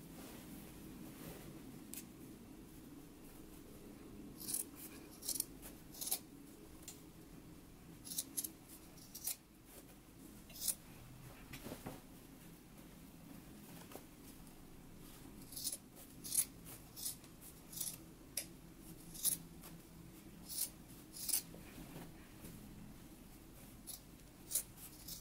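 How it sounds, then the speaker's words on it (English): Scissors trim down a sewn waistband seam in fabric, giving a quiet series of crisp snips that come faster and closer together toward the end over a faint room hum. "we can go ahead and trim our seam down"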